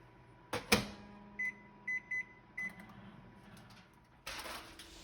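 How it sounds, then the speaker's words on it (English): A microwave oven heating vegan smoky stuffed peppers: a sharp clunk of the door, then a run of short, clear beeps as it is set, followed by a louder burst of operating noise near the end. "then we'll put a lid on it and put it in the microwave for 6 minutes."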